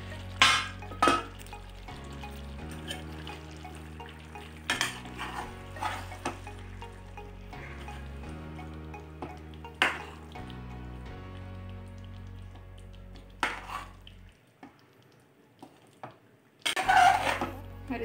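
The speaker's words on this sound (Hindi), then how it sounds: "हम चिकन का साइड बदल देंगे इस तरह" Chicken leg pieces are turned over in a biryani pot, giving a few sharp scrapes and metallic knocks of a utensil against the pot over a low, steady cooking hum, with a louder clatter near the end.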